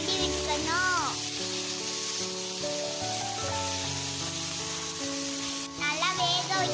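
Pepper chicken frying on a medium flame, stirred with a utensil, giving a continuous sizzle with scraping strokes while music plays over it.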